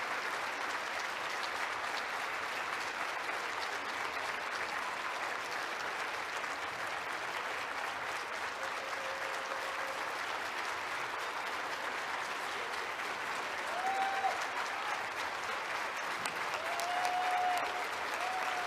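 Sustained applause from a lunch audience after a speech, a dense, even wash of clapping lasting the whole stretch, swelling slightly near the end, with a faint voice underneath.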